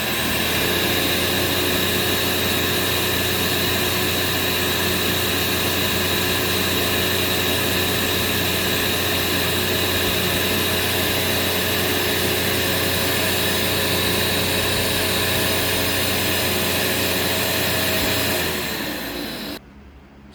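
Sharp Twin Energy EC-TU2609 vacuum cleaner switched to its high setting, giving a loud, steady whooshing roar with a constant motor whine that holds for about nineteen seconds, then cuts off abruptly, with no talking.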